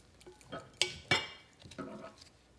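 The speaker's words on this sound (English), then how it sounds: "I'm just going to toss this around with the flour" Meat for carne guisada tossed with flour in a bowl, producing a few soft scrapes and two sharp clinks of utensil against the bowl, close and quiet.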